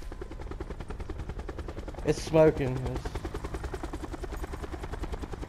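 A helicopter flies in Call of Duty Black Ops 4 Blackout, its rotor thumping rapidly and steadily throughout at moderate distance, with a person speaking briefly over it.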